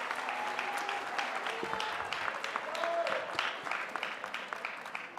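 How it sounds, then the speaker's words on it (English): Graduation ceremony crowd in a large hall cheering and applauding, with distinct hand claps and whoops over a steady bed of applause, moderately distant and lively throughout. "let us cheer for you"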